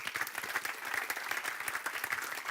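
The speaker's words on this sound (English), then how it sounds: "Could we just give one extra round of applause, ladies and gentlemen, for the reporters from our sessions," Audience at an energy-grid conference gives the session reporters a sustained round of applause, dense and steady throughout, with no voices standing out.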